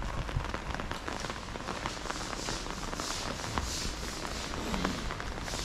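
Steady rain patters on a surface nearby in Alassio, Italy, with scattered drips and taps over a continuous hiss.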